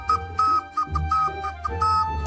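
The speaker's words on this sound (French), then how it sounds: "ça sifflait la mélodie de la bonne humeur à table" Someone at a dinner table whistles a bright, cheerful tune in short phrases of clear, close, loud notes, with brief pauses between phrases.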